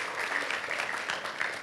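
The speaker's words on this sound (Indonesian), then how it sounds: "Kita kasih tepuk tangan buat kemuliaan nama Tuhan." A church congregation applauds in a dense, steady patter of many hands clapping at once, at moderate loudness.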